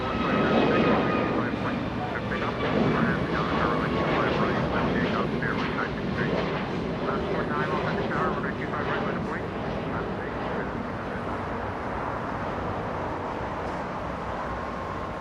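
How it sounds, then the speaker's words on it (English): A United Boeing 787 Dreamliner from Newark touching down at Los Angeles International, a steady loud jet roar that eases slightly as it slows, with a voice talking over it. "the Dreamliner from Newark slowing down, touching down right in front of Bad Bridge"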